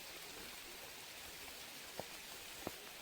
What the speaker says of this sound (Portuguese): a chuva tá forte mesmo